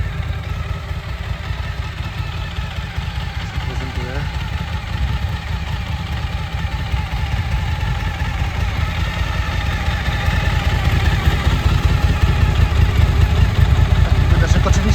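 A 2015 Suzuki DL 1000 V-Strom motorcycle idles steadily with a deep, throbbing exhaust rumble that grows slightly louder toward the end, close by and continuous.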